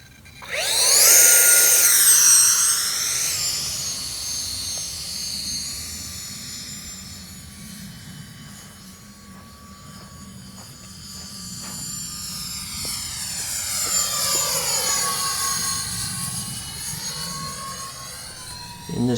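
E-Flite F-14 Tomcat twin 40mm EDF model jet flying with gear off and wings swept, a loud whining ducted-fan roar that swells and Doppler-shifts on close passes, fades as it moves away, then builds again for another pass.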